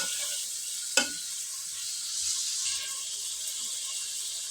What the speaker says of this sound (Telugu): దీన్ని మీడియం ఫ్లేమ్లో పెట్టి ఒక వన్ మినిట్ మగ్గనిద్దాం